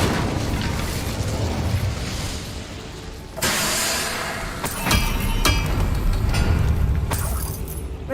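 A fire spell being cast in the wizarding video game Hogwarts Legacy: a sudden broad whooshing burst at about three seconds, followed by crackling roars and sharp bright flares over a steady rumbling game backdrop, with no talking.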